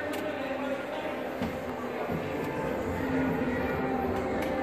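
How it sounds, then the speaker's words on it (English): A moving passenger train gives a continuous low rumble and rattle throughout, with voices talking over the steady ride noise. "Are we gonna get on the choo-choo train, Scarlett?"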